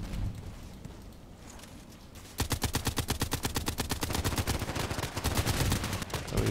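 Rapid bursts of SVD-S sniper rifle fire in a video game, loud close shots in a fast steady rhythm after a quieter opening, continuing to the end.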